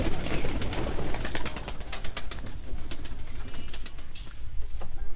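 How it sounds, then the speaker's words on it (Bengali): Domestic pigeons coo on a farm, their soft calls blending into a dense, continuous rustling and fluttering background, steady and moderately loud throughout. "এখানে দেশি কবুতর পালন করা হচ্ছে"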